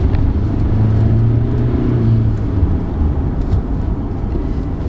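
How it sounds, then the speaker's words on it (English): A 2020 SsangYong Musso Rhino pickup accelerating hard with brief wheel spin, heard from inside as a steady, loud low engine drone and road rumble with no break. "The responsive acceleration is very good. Instant, and a wheel spin as well."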